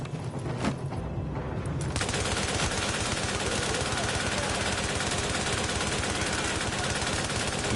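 Sustained rapid automatic gunfire from a high fire-rate weapon in The Division shooter game, a dense continuous stream of shots after a brief quieter opening, loud and steady throughout.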